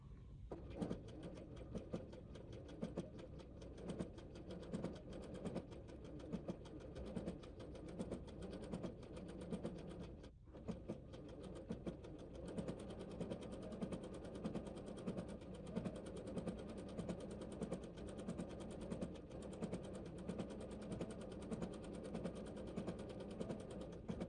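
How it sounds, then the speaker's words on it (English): A home sewing machine with a transparent foot runs a stitch of three small stitches and a tiny zigzag while piecing quilt blocks, a steady close mechanical whir and rapid ticking that continues for the whole stretch with only brief pauses. "I have my machine set to one of those stitches that takes 3 little stitches and then a tiny zigzag to the left"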